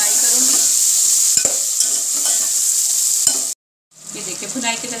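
Halved green chillies sizzle and crackle steadily in hot oil with cinnamon pieces and cloves, a loud continuous fry broken by a couple of utensil taps and a brief pause before the sizzle resumes.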